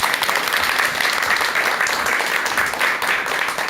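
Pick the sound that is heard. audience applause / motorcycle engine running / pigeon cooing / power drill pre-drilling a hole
audience applause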